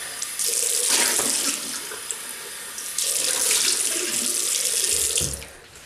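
Tap water runs steadily into a bathroom sink while someone rinses off after a shave, a close, loud rushing stream with splashy changes as hands pass through it, then it tapers off at the end.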